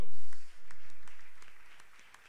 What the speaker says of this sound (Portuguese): Aplaude ao Senhor bem forte pela vida deles.